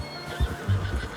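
A horse in the video game Red Dead Redemption 2 gives a brief, faint, low nicker with a couple of soft snorts.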